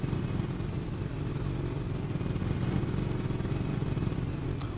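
A motorbike rides along at a steady pace, its engine giving a continuous low drone with road noise the whole time, and no pauses or changes in pitch.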